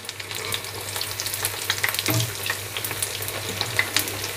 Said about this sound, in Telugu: మంచి కలర్ వచ్చే వరకు రెండు వైపులా తిప్పుతూ మంచిగా వేయించుకోవాలండి